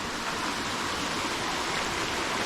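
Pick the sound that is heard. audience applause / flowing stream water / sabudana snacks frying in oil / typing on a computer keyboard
flowing stream water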